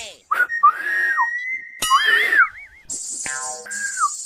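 Someone tries to whistle in short, wavering bursts, with breathy gaps, a warbling slide and thin, uneven tones that break off and restart.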